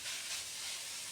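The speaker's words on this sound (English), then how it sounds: "I want the onions to still fry a little bit" Onions frying in a pan, a steady broadband sizzle and hiss that stays even and fairly close throughout, with no talk over it.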